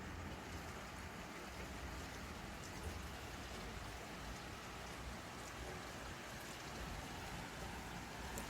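Spring rain falls steadily on potted succulent plants set outside a window, a dense, even patter that continues without pause at a soft level, with no voices.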